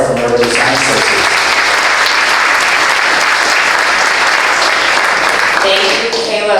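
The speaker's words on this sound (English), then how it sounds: "So let's give a round of applause for Megan O'Hara from Urban Design Associate" An audience at a public kickoff event for a design week in South Bend breaks into loud, sustained clapping that fills the room. Brief speech can be heard at the start and again as the applause fades.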